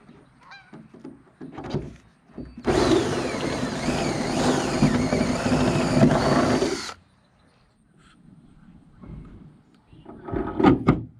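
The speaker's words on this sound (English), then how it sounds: "we can pre-drill our holes for our hood" A power drill pre-drilling holes in a derby car hood, one loud continuous whining run of about four seconds close by, framed by quieter clanks and handling noises before and after.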